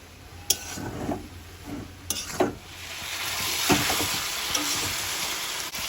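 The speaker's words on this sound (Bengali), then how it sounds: "মশলাটা ভাজা হয়েছে আর চিকেনটা দিয়ে দেবো" Chicken frying with spices in a pan while being stirred, soft sizzling with scraping and stirring knocks that swell into a steadier hiss, no talk.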